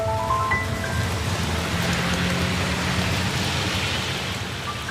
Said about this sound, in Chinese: 你看这天气，说下雨就下雨。